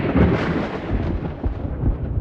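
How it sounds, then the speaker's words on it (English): A thunder and lightning sound effect plays as a loud, continuous rumbling roar with no voices, holding steady for a couple of seconds. "supposed to be his lightning sound, I think."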